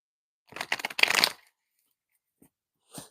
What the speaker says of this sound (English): Let me take another shuffle. I can't take a whole deck at once.